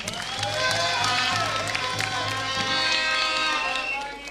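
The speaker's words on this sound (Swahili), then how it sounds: "Makofi tafadhali." Applause from the gathered audience at a county deputy governor's swearing-in ceremony in Homa Bay, a sustained crowd clapping in a large room with someone speaking over it through a loudspeaker.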